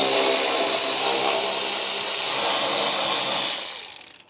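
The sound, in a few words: power tool removing screws from BMW 7 Series bumper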